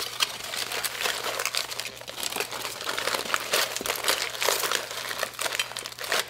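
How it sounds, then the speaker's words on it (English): Aluminium foil crinkling and crunching continuously as it is wrapped fully around a hickory-smoked brisket, close and fairly loud with dense irregular rustles throughout. "get it all covered with foil."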